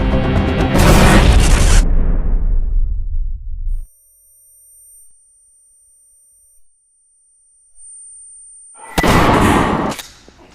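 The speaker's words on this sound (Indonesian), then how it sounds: "Dari jendela basement, FBI melempar granat ke arah mereka." A grenade blast in a video game, a loud booming burst with a long rumbling tail that fades into near silence, then a second loud crash near the end.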